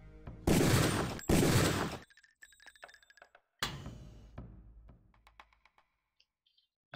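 Gunfire in the video game Deus Ex: two loud, sustained bursts of shots back to back, followed by a sharper single blast and a scatter of fainter clicks and clinks as the action dies down.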